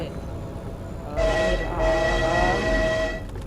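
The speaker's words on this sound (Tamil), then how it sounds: "சூச்சு சார்லஸ் இப்போ நம்ம கிட்ட தான் இருக்குது" The monster train from the horror video game Choo Choo Charles sounds a loud drawn-out horn blast in two swells over a rumbling engine, close and menacing.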